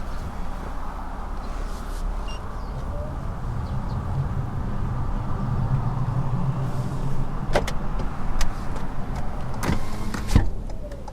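A car drives along a busy road on a Monday trip, with steady road and engine noise throughout and a few sharp clicks or knocks near the end.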